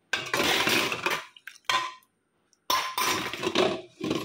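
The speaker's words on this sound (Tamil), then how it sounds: "அடுத்து நம்ம இந்த விளக்கையும் வந்து உள்ளே போட்டு பார்ப்போம்." A metal puja lamp is set down into a vessel of water, producing bursts of clanking and scraping of metal against metal, close and fairly loud, broken by short pauses.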